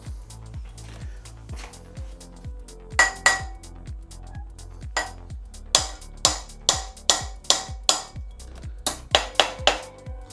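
A bicycle headset part on a 1998 Cannondale Team Saeco is driven down with a nut and bolt, giving a regular series of close, bright metallic clinks and taps with faint ringing between them.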